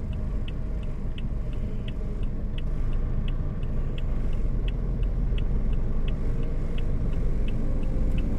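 Steady road traffic on Macapagal Avenue in Pasay City, with a constant rumble of passing cars and engines and a faint regular ticking throughout.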